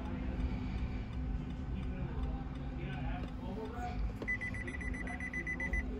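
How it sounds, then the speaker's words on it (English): A rapid series of high electronic beeps from a key programming tool rejecting a smart key for a 2013-2015 Nissan Altima starts partway through and repeats steadily over a constant low background hum. "When it beeps repeatedly, that means that it didn't accept the key."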